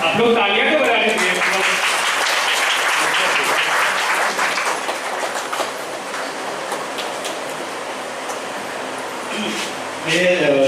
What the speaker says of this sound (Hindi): आप लोग तालियां तो बजा दीजिए।